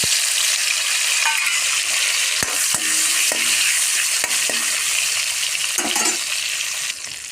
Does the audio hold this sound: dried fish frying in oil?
yes